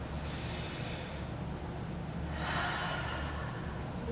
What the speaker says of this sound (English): It's that deep breathing.